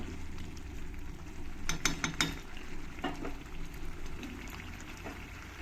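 Chicken being sautéed in spice masala for a chicken and potato jhol, with a soft steady sizzle and a few clinks and scrapes as it is stirred in the pot.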